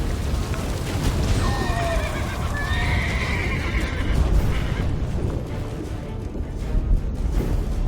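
A horse in the video game The Witcher 3 gives a loud, drawn-out whinny over a dense rumble of hooves and battle noise, with the galloping continuing steadily after the neigh fades.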